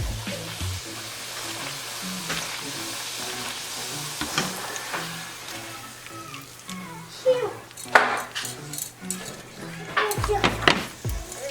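Tortillas frying in olive oil in a pan on high heat, a steady soft sizzle with intermittent clinks and scrapes of utensils, growing busier toward the end.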